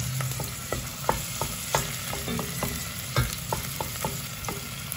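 Chopped onions frying in a pan for red rice, a steady close sizzle broken by repeated scraping stirs and clicks of the utensil against the pan, with no voices.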